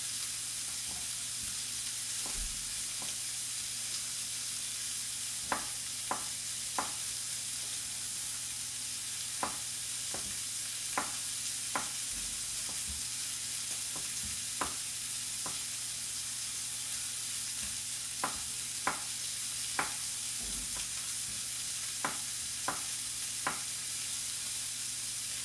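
A sirloin steak sears in a hot pan with a loud, steady sizzle and hiss throughout, broken by sharp little pops and crackles at irregular intervals over a low background hum.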